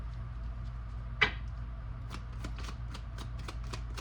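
Tarot cards being shuffled: a sharp snap, then a run of quick papery flicks and riffles close by, with no voices.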